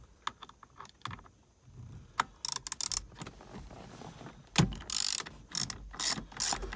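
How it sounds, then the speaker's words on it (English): A ratchet fitted with a T50 Torx bit loosens a bolt on the steering column of a 1999–2004 Ford Mustang. Close, dry ratcheting clicks come in several short bursts with pauses between them, and no one speaks. "Let's take that bolt loose from the steering column."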